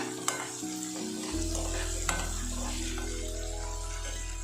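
Cumin seeds hit onions already frying in a pan for shavige uppittu, giving a steady sizzle with a few clinks and stirring sounds, close and without talk.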